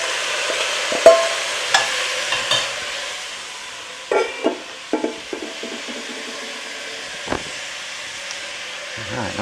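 Meat added to a pot of softened onions for a Guinness stew, a steady faint sizzle with a few scrapes and clunks of stirring and a short burst of clatter midway, no talking.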